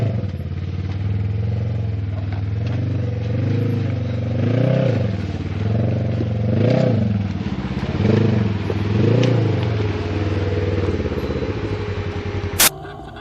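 An off-road vehicle with raised clearance crawls over a rocky obstacle on a desert gulch trail, its engine surging in repeated waves while the underbody skid plate scrapes, ending in a sharp metallic clank.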